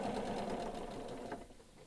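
A sewing machine runs steadily, close and fairly loud, back-stitching over darts in a spring cloak, the motor hum holding evenly before easing slightly near the end.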